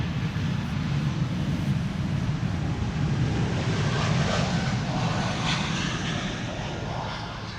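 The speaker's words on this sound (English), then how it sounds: "E2 Embraer 195." An Embraer 195 E2 airliner takes off from a runway at Amsterdam Schiphol Airport, its engines giving a steady, fairly distant broadband roar that swells slightly and then eases as the jet climbs away.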